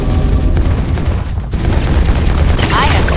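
A tower in the tower-defense game Bloons TD 6 fires a dense, loud barrage of gunfire that rumbles on continuously, with a game voice line heard over the shooting.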